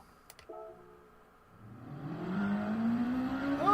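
A car engine in the racing video game Gran Turismo 7 on a hilly, twisty time trial climbs steadily in pitch as it revs and accelerates, growing louder over a few seconds after a quieter start with brief clicks.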